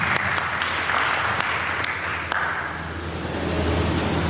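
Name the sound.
loud applause for speech competition participants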